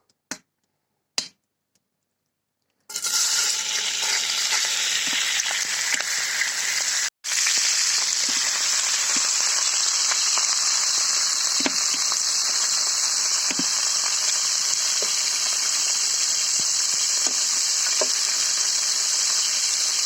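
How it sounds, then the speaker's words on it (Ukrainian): Pork belly cut into small pieces sizzles steadily in a hot cauldron over an open fire, rendering into cracklings; a loud, continuous hiss fills the clip after a few brief knocks and a short pause. "Її потрібно висмажити до стану вишкварків."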